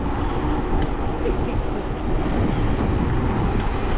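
Steady wind buffets the microphone outdoors in Crimea near Yalta, a dense, continuous rushing roar with no pauses.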